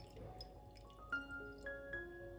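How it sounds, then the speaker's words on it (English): Small amounts of condensed water poured off steamed poached eggs in cups, a few faint, close drips and trickles with short tonal plinks, quiet and isolated. "This is simply condensation formed during steaming, and you can gently pour it off."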